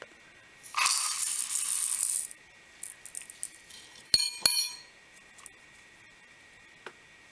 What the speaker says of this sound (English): Sorry for the loud clang.